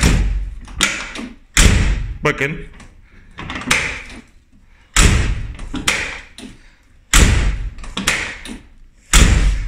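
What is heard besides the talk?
car door handle being tested, door closing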